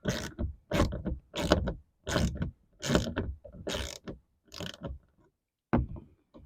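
A ratchet loosens the bolts holding a panel in place, with about eight quick, loud bursts of clicking, each lasting about half a second, followed by a final short burst after a pause, close by and with no talking.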